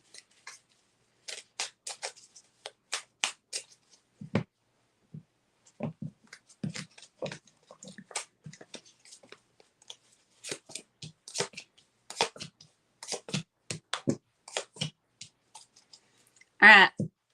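Tarot cards are shuffled by hand in a quiet room, producing bursts of soft papery riffling and clicking separated by short silences, close and fairly faint.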